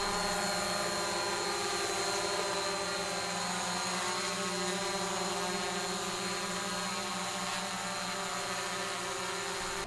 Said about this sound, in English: And here's Nancy flying her Mavic.